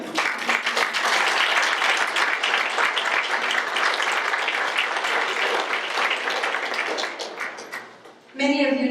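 A large audience gives sustained applause in honour of a man named Henry, a dense continuous roar of clapping that holds steady for several seconds, then fades. A voice begins speaking right at the end.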